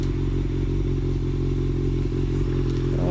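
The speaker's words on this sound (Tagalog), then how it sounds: "Yan ang kanyang motor." A motorcycle engine runs steadily close by, a continuous low rumbling idle with a slight clattering texture throughout, loud and without voices.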